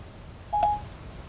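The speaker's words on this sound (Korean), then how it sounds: "조성주에게 전화 거는 중" Phone dialing tones played through Apple CarPlay in a Chevrolet Spark: a single short steady tone in the middle of a quiet cabin, with no talk.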